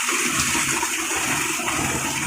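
Water gushes and splashes continuously from a shallow pump machine in a field while people wash up, a loud, close, steady rushing spray with no talking.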